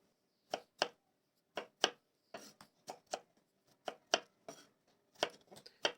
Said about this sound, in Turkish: Bu şekilde hepsini doğrayacağım.